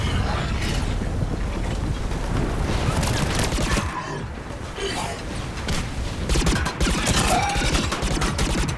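Sustained gunfire in Mass Effect 3 crackles in dense, loud volleys throughout, with mechanical clanks and a short lull midway, as voices speak over the firefight.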